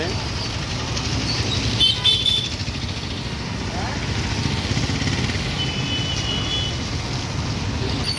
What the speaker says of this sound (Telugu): ఈ బండ్లు వచ్చి ఆ సిగ్నల్ నుంచి కోకాపేట ఏరియా నానగ్రామగూడ ఏరియా నుంచి వస్తాయి